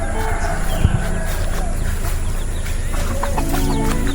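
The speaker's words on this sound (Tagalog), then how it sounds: "Inaatake ng manok yung" Chickens cluck and chatter near a tent at a motocamp campsite in Antipolo, repeated short calls over a dense, busy outdoor background, with people talking nearby.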